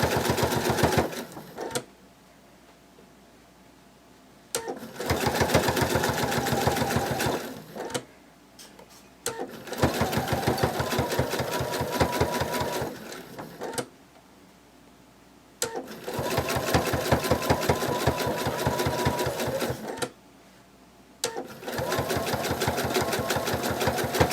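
A sewing machine stitches around a seam on a bunny plush toy, running in loud rapid bursts of several seconds each, separated by quiet pauses as the fabric is repositioned.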